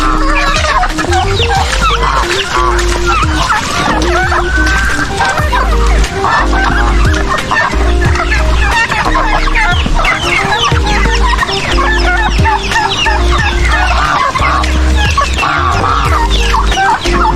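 Flock of chickens kept outdoors in rainy weather, clucking loudly and continuously close by, many overlapping calls at once as they crowd around their keeper, with no talking.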